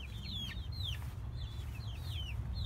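Young chicks in a small baby coop peep steadily in high, rising-and-falling chirps, several overlapping calls repeating over a low steady rumble of background noise.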